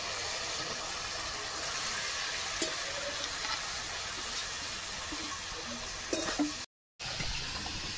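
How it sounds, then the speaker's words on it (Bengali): Spices frying in a pan with a little water added, hissing in a steady, close sizzle with stirring scrapes, broken by a brief gap near the end. "অল্প জল দিয়ে দিচ্ছি।"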